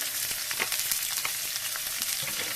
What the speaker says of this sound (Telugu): మనము తరిగి పెట్టుకున్న ఉల్లిగడ్డలను వేసుకోవాలి